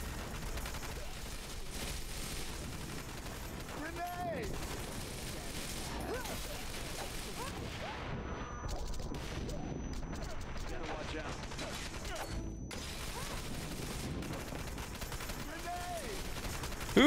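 Pistol and other gunfire in Wanted: Dead, with shots spread across a busy, continuous combat mix, moderately loud and layered with mechanical clatter and action sounds.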